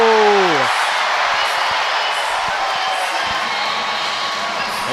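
Packed fieldhouse crowd at a women's college volleyball match between Wisconsin and Michigan roars on match point, a sustained loud wall of cheering and whoops that stays steady throughout after a brief voice at the start.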